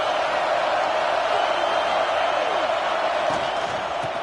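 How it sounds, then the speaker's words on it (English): A college football stadium crowd at Penn State versus Nebraska roars steadily for the defense before a big third down, a loud, unbroken wash of cheering and noise heard from a distance. "Big third down as the crowd gets behind this defense."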